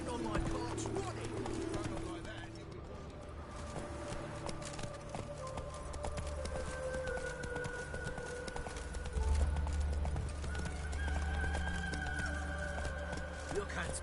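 Roach, the horse in The Witcher 3 video game, walks with a steady clip-clop of hooves through a town, heard under game voices and background sounds, with a low rumble later in the scene.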